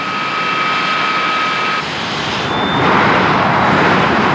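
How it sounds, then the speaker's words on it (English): A Lightning fighter jet engine bolted into a car roars loudly and steadily, a harsh broadband blast with a high whine, intensifying partway through; no voices. "wondered what would happen if you bolted a Lightning jet engine in instead"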